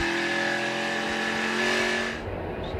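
ARCA stock cars roar around Pocono Raceway as a loud, sustained engine drone with a steady pitched whine, easing off near the end as the pack moves away; no talk.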